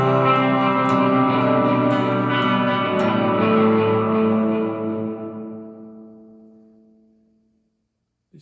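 A sustained guitar tone through an Electro-Harmonix Cathedral reverb pedal with long pre-delay swells in heavy reverb, a wash of ringing sound that slowly decays into silence.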